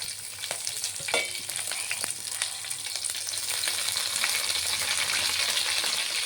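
Cumin, onions and green chillies frying in oil for prawn biryani, a close steady sizzle with scattered crackles and stirring scrapes, growing slightly louder, with no talk.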